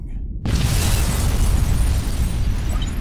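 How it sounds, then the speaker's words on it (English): A massive bomb blast at the Paris Hotel in the Metal Gear Solid 2 video game erupts suddenly after a brief silence, a loud sustained roaring boom with heavy low rumble that holds for several seconds. "The Paris Hotel bombing."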